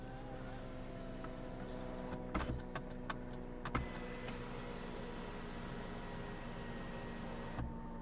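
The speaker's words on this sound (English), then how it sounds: "you can retract it all the way forward, and then the shade will come all the way back as well" Electric rear sunshade retracting inside a 2022 Mercedes-Benz GLC 300 4MATIC, a faint, steady motor hum over quiet cabin noise, broken by a few soft clicks and knocks.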